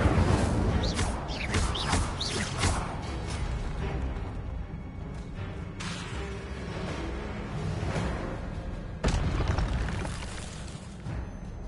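An Incendio fire spell is cast in Hogwarts Legacy: a continuous roaring, whooshing burst of flame with a few sharper bursts and crashes layered over dense game sound.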